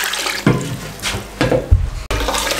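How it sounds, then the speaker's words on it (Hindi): Water splashes from a one-kilogram mug into a pressure cooker pot for beef white pulao, in a few quick pours with gurgling bursts and a clunk of the mug. "इसके अंदर अब हम इससे डबल पानी डाल दें।"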